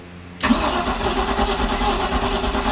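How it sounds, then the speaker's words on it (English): Mercruiser inboard engine on a Stingray cuddy boat, idle after nearly a year, as its starter kicks in abruptly after a quiet moment and cranks steadily at close range with a loud mechanical churn, no talk. "Alright, well the starter sounds pretty good."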